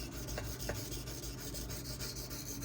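ZDP-189 and MagnaCut steel knives sharpened on a Suehiro Debado whetstone, a quiet repeated rasping scrape in steady back-and-forth strokes with no talking.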